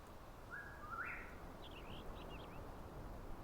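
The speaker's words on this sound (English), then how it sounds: "so you can kind of hear the birds chirping in the environments around us" Birds chirp in the ambient environment of the video game Enshrouded, a few short, faint calls and twittering trills set against a steady, soft background hiss.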